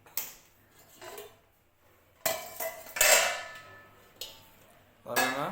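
A metal cooking pot is set down on a lit kitchen stove with several sharp clangs and scrapes of cookware, close and loud, separated by quiet pauses.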